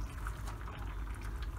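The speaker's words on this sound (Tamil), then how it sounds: "சேர்த்து மூடி வச்சு ஒரு 3 நிமிஷம் கொதிக்க விடலாம்." Besan flour sausage gravy bubbles in a covered pot, a steady soft simmer of low burbling and faint patter that runs unbroken and close, with no voices.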